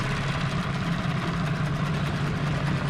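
An old boat engine, idle for two years, runs roughly and steadily at a low idle as it is put in gear, a constant rumbling drone with no talk.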